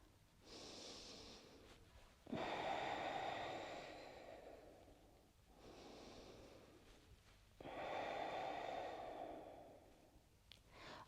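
Slow, deep breathing during a relaxed festive yoga pose: two full cycles of soft inhale and longer, louder exhale, close and breathy, with no talking.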